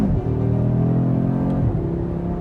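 Loud 2023 Audi RS3 engine with a seven-speed transmission, heard up close: the rumbling exhaust note climbs in pitch as it revs, dips briefly at a shift, then carries on under load.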